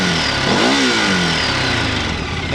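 An off-road motorcycle engine revs up and back down as the throttle is twisted, then holds a loud, steady drone close by with no talking.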